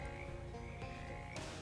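Frogs croak in the swamp of the video game Shadows over Loathing, a steady, dense layer of low throaty calls over constant ambient game background with no speech.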